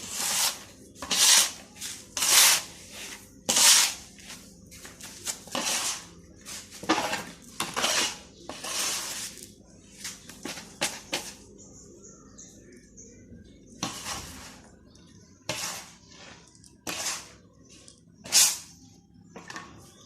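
Potting soil being mixed by hand, a cement-like blend for a homemade planting mix, giving repeated scraping, crunching and rustling bursts in an irregular rhythm, close and fairly loud with short pauses between.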